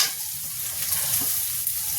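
Steady sizzle of onions dropped into hot oil with lightly cooked garlic in a pan on a high gas flame for an aloo baingan chokha, continuous frying hiss with faint stirring.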